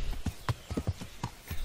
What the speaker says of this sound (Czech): Tady mají koně, to je hezký.